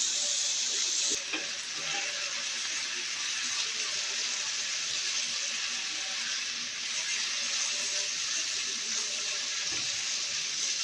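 Omelette mixture with potato, black pepper and chili flakes sizzles steadily in a hot pan while being stirred, a continuous close frying hiss with occasional scraping clicks.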